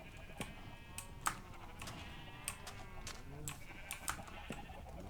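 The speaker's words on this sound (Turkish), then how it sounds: "Koyunları da kırpalım. Çok ses yapıyorlar ama." Sheep bleat repeatedly in Minecraft, several overlapping calls over soft background noise, with small clicks now and then.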